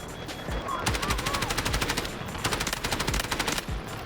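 Automatic gunfire in the Delta Force video game rings out in rapid bursts of machine-gun shots, loud and close, packed together with short gaps between bursts.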